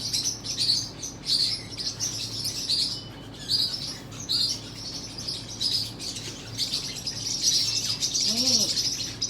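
Forpus parrotlets in a cage chirp constantly in quick, high, busy bursts, with faint rustling and a low room hum beneath.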